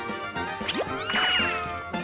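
A cat gives a few short meows close by, sliding up and down in pitch over a quiet background, with a faint knock or clatter between them.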